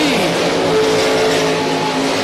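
RaceSaver sprint cars roar around a dirt oval at Crawford County Speedway, a steady loud engine drone with rising and falling pitch as cars pass, no talk over it.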